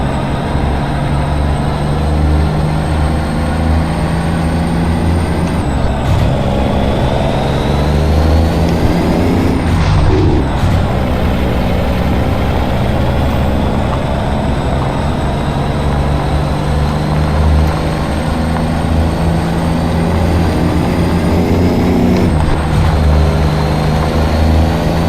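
A truck engine drones steadily while driving in American Truck Simulator, a loud continuous low rumble with faint higher whine throughout, shifting slightly around mid-clip, with no talking.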